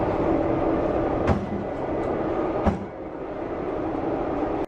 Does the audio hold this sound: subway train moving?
yes